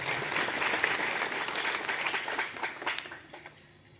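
An audience at a Marathi function applauds, a dense burst of many hands clapping at fair distance that holds steady before thinning and fading out over a few seconds.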